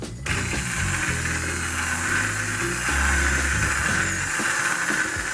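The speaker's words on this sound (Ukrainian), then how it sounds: "Тепер я беру блендер" An immersion blender purees cooked tomato sauce in a pot, a loud continuous whirring drone with shifting pitch as the blade churns the thick sauce, running steadily throughout with no talk.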